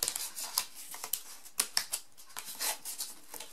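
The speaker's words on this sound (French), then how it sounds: "Bon, ciseaux, c'est pas le plus pratique." Scissors snip through material for a Christmas door wreath, a close series of crisp, irregular cuts with short pauses between them and no talking.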